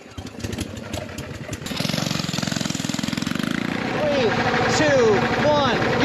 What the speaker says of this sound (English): we're gonna do a quick little speed run on these things and compare them